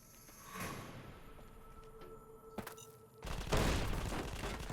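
Gunfire in the video game Fallout: New Vegas: a few sharp shots early on, then a loud, sustained burst of rapid fire in the final second and a half.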